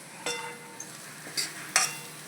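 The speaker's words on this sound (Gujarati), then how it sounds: "હવે આપણે બધા મસાલા હલાવી દઈશું અને હવે એને સ્લો ફ્લેમ ઉપર ચડવા દઈશું" Spices for kantola curry being stirred in a pan over slow flame: a few sharp scraping strokes of a spoon against metal, spaced apart over a quiet background.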